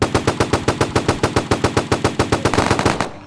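Automatic gunfire in the Roblox game Pubblox rattles off in a rapid, even burst of about seventeen loud shots over three seconds, then cuts off, with no talking.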